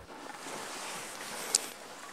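Water poured over a non-waterproof birdhouse camera, a soft steady splashing wash throughout with one brief sharper splash near the end.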